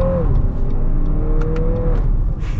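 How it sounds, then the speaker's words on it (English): A 2022 Lexus NX 350 F Sport's turbocharged four-cylinder engine pulls steadily under acceleration, a smooth rising drone with low rumble throughout, fairly loud and close, with no talking. "it actually sounds pretty good for a 4-cylinder too"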